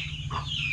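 A single short cluck from a backyard chicken, close and moderately loud over a low steady background hum.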